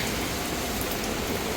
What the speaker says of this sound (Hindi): शुक्र है कि थोड़ी सी बारिश हो जाती है ना तो मौसम अच्छा हो जाता है फिर